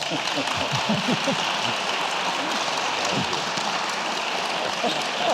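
A live audience at an 80th anniversary interview event claps warmly, a dense continuous patter of applause lasting throughout, with scattered voices murmuring underneath.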